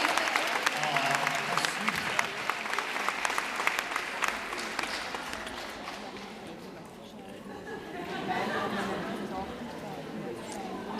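Audience applause at a panel event, a steady broad wash of many hands clapping close to the microphone, continuing for several seconds and gradually thinning, with voices and cheering mixed in.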